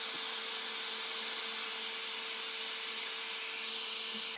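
An Envy 3-in-1 AirStyler on high heat and low air blows onto a synthetic wig, producing a constant, fairly loud airy hiss with a faint steady hum, unbroken from start to finish and without talk.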